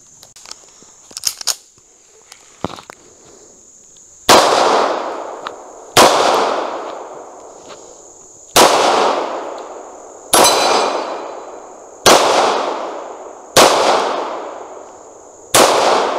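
A CZ 75 SP-01 competition pistol fires seven loud, sharp shots at steady intervals of about one and a half seconds, each with a ringing decaying tail, after some quiet handling clicks.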